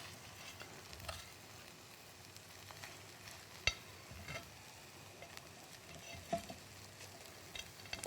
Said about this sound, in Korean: 불을 약하게 그리고 밥을 넣어주세요.